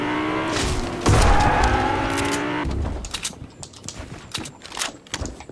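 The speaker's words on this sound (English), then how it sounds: "I hear a car." A car drives through a Fortnite match, its engine a loud steady hum with a sharp knock partway through, then fading into scattered game noises.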